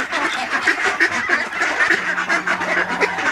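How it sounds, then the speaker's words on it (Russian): Greylag geese honk repeatedly in a noisy, overlapping chorus, close and fairly loud, with no voices present. "Это серый гусь. Серый гусь."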